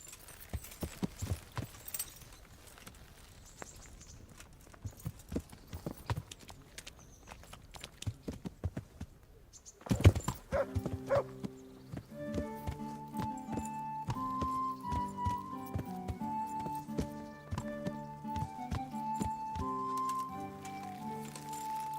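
Horse hooves clip-clopping while riding in the medieval video game Kingdom Come: Deliverance, a steady rhythmic trot that continues as music comes in partway through.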